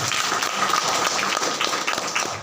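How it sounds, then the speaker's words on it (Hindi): A church congregation at an Easter Sunday service breaks into loud, sustained applause, a dense continuous wash of many hands clapping together with no talk over it. "एक बार जोरदार तालियां बजाएं"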